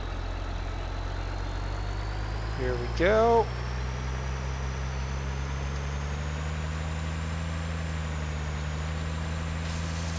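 Semi truck engine in Farming Simulator 2013 drones steadily throughout, a loud low continuous rumble, with a brief burst of other sound near the start and a short spoken phrase over it.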